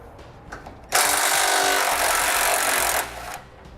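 A 13mm socket on a power tool whines steadily for about two seconds while removing a bumper beam bolt on a 2013 Ford Taurus, close and loud, with faint clicks before and after.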